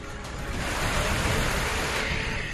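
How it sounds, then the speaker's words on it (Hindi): Floodwater surging through Nainital's Naini Lake during heavy October rains, a dense, loud and continuous roar of rushing water, without breaks or voices. "जब नैनी झील के पानी में आया ऐतिहासिक सैलाब"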